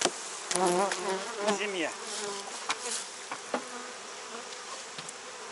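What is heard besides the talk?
honeybees buzzing at an opened hive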